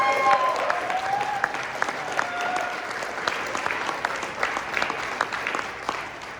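An audience applauds at a community gathering, a steady wash of many hands clapping at moderate distance, tapering slightly toward the end.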